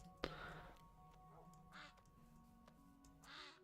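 A single duck quacks in a modded Minecraft world, one short synthetic call over a steady low game ambience with faint bird-like chirps scattered around it.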